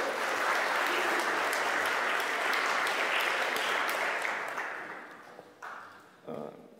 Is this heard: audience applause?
yes